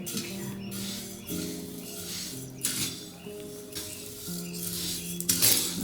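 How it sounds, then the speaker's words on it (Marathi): Horse gram is dry-roasted on a griddle over a wood-fired stove, with brief scraping, rattling bursts of stirred grains recurring every second or so beneath steady background music. "चुलीवर छान तवा ठेवून त्यावर त्याला भाजून घेऊ"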